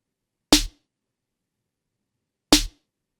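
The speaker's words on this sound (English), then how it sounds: "So just your simple synthesized snare." A simple synthesized snare drum with no effects hits twice, two seconds apart, each a sharp dry crack with a short tail and silence between.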